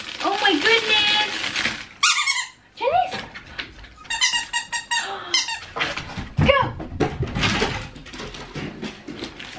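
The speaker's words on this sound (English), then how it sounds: "I got some squeaky bones for..." Repeated high-pitched squeaks from a rubber dog toy being squeezed, in bursts, mixed with someone talking excitedly nearby.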